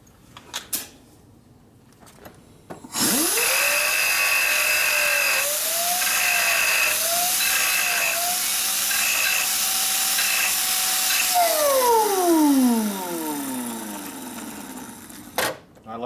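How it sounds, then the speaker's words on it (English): Handheld angle grinder cutting into the engine case of a 1972 Harley-Davidson Ironhead Sportster, starting abruptly and holding a steady loud whine for about nine seconds, then winding down in a falling tone before stopping. "I like this grinder because I can control it really good."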